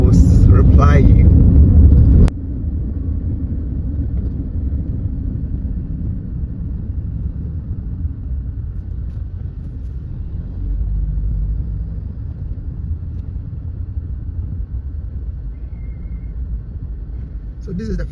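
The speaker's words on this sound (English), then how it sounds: "for here there's always traffic" Road traffic at the Flower Pot roundabout in Ghana gives a low, continuous rumble of vehicles, loud for the first couple of seconds, then settling into a steadier, more distant drone, with a voice speaking over it.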